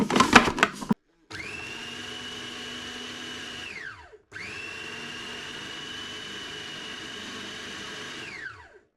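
A food processor minces fish into a paste for Filipino fishballs, giving two sustained, loud motor whirs of about three seconds each, separated by a short pause, and running alone without talk.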